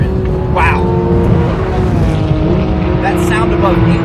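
A Porsche 911 GT3 Street Cup screams at high revs above 8,500 RPM, its engine wail carrying mechanical valve train noise and rising and falling through gear changes, close and loud with brief voices over it.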